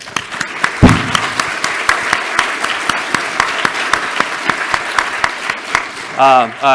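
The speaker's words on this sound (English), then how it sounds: "So, round of applause for them, please" Audience applause for conference panelists, a steady wash of many hands clapping that runs throughout, with a voice briefly speaking near the end.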